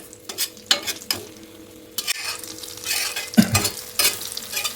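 Fish curry being stirred in a pan, spoon scraping and turning the pieces in rounds over a steady oil sizzle, with louder scraping bursts near the end.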